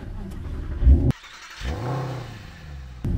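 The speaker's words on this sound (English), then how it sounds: "Oh, listen to that grumble." A Mercedes SLS AMG V8 gives a deep, close grumble that swells after a brief cut-off and settles into a throaty low rumble.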